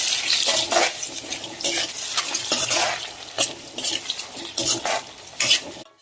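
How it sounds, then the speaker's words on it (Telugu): Onions and tomato stirred in an iron kadai, a spatula scraping and clattering against the pan over a steady frying sizzle, loud and close, with no voices. "సో ఆనియన్స్ ఇలాగా కలర్ చేంజ్ అయిన టమాటా కూడా వేసుకుందాం. ఒకసారి బాగా కలుపుతాం ఫ్రెండ్స్"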